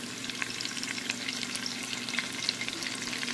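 Onion frying in a pan of butter with a little oil gives a steady, close crackling sizzle with scattered sharp pops throughout, and no voices.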